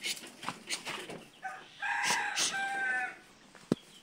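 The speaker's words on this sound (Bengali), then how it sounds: "আমি মুরগিগুলো একটু আপনাদের দেখে নেই।" Chickens in a backyard coop, a rooster crowing loudly in the middle among scattered clucks and rustling, fairly close.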